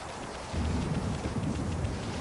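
Thunder in the video game Okami HD, a short rumbling crash that starts abruptly after a quiet moment and lingers as a dense low roar.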